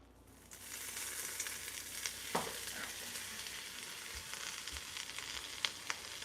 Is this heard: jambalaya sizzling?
yes